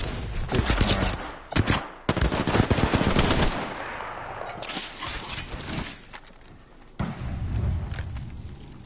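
Rapid bursts of Spitfire light machine gun fire in the Apex Legends video game, loud and close, with dense rattling volleys in the first seconds, then quieter, scattered shots and a final burst.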